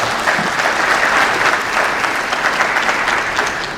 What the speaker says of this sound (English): So let's give Savannah Miller a round of applause.